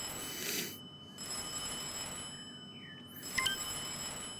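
A telephone rings in the video game Little Big Planet 3, bright trilling bursts with gaps between them and a sharper chime near the end, fairly faint and without speech.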